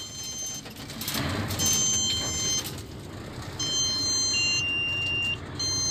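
Electronic warning beeps sound in short tones over a low engine hum inside the cab of a Mercedes Actros truck with an automatic gearbox, with a few bursts of cab noise.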